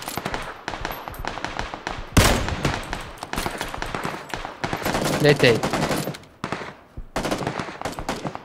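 Rapid bursts of automatic gunfire crack through a round of the PUBG Battlegrounds video game, repeated volleys mixed with single shots, loud and close, while players talk excitedly over the shooting.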